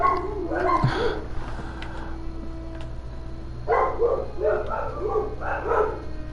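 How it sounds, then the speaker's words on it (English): Dogs bark indoors in two bursts, a few sharp barks at first, then after a pause a quicker run of several barks, fairly close and loud above a low steady hum. "the dogs are starting to quiet down"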